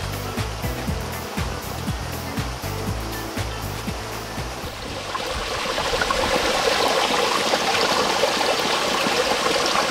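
A clear mountain stream flows near a campsite at Aso, Japan, a steady broadband rush of running water, close and fairly loud, with low knocking sounds early on, then a brighter, fuller splashing for the rest.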